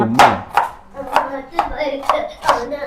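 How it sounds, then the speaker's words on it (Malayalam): A knife chops onions on a board with about six steady, evenly spaced chops, close and distinct. "ഇത് നമ്മള് ഉള്ളിയൊക്കെ അരിയാണ്"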